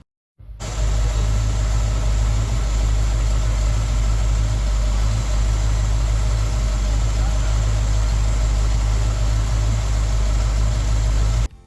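An older classic car engine for sale comes on abruptly and settles into a loud, steady, rumbling idle that runs unbroken for over ten seconds, close to the engine with no talking.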